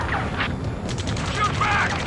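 Gunfire in a firefight in Ace Combat 7, heard as a dense rattle of distant automatic shots beneath shouting voices and battle noise, continuous through the short moment.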